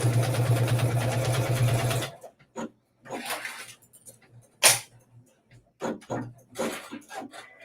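A Juki sewing machine stitches through thick layers of bag fabric with a fast, loud mechanical whir for about two seconds, then stops; quieter clicks and handling sounds follow while a person talks briefly.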